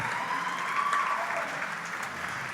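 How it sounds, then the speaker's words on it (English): Steady applause from an audience at a university athletics hall of fame induction ceremony, honoring a women's all-decade team; continuous, even clapping throughout with no voices over it. "one more round of applause for your class of 2010 to 19 Augsburg Women's Athletics All-Decade Team"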